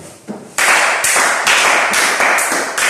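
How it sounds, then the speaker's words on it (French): A live audience breaks into loud, sustained applause after a brief lead-in, the clapping filling the room steadily for a couple of seconds at close range. "Applaudissez-vous."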